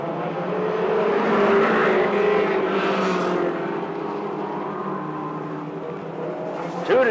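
Mini stock race cars roaring around a track during an evening qualifying heat race, a loud sustained engine drone that swells and fades as cars pass.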